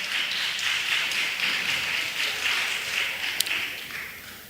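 A church congregation applauds after a children's Christmas song performance at an Anglican church, steady dense clapping filling the room at moderate volume throughout, with no speech over it.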